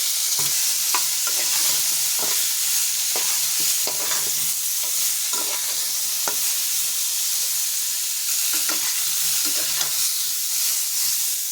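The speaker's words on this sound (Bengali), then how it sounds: "এখন আবার আমি তেলের মধ্যে দিয়ে দেবো যে ফুলকপিগুলো কাটা আছে, ফুলকপিগুলো দিয়ে দেবো" Cut cauliflower pieces fry in hot oil in a kadai, with a loud, continuous hiss and crackle and occasional faint stirring knocks, with no voices.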